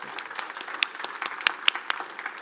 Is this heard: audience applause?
yes